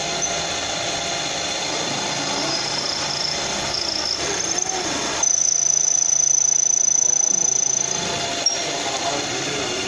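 A lathe machines the valve recess into a Kawahara racing piston, giving a steady metallic whine with a thin high-pitched cutting tone that grows louder midway, amid background workshop noise.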